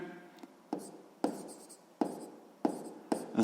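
Pen writing on paper during a sixth-grade maths exercise, heard as a run of scratchy strokes with sharp taps every half second or so, close and fairly quiet, with no voice over it.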